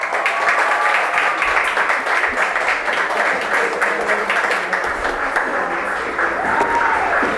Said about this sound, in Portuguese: recebam, né, nossos calorosos aplausos nesta noite